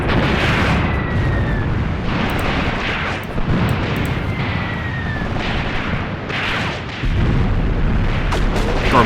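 Artillery barrage in the WW2 video game Graviteam Tactics: Mius Front, heavy booming shell impacts and explosions rolling one after another, loud and dense with a continuous rumbling roar between blasts.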